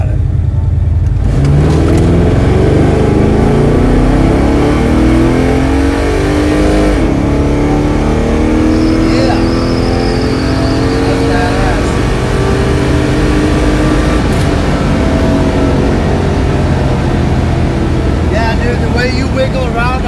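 Car engine revving hard at a drag race launch during a Blue Suede Cruise ride-along, a loud close roar with rising and falling pitch sweeps as it pulls through gears, and people talking over it.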